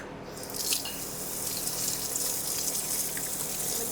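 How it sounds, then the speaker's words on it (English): Hands being washed under a running tap after making cultured butter, a steady close splash of water into a sink. "I'm going to wash my hands"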